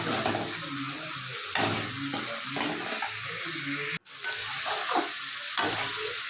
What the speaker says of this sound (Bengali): মশলাটা ভালো করে কষে নিয়ে তারপর দেব লঙ্কা গুঁড়ো।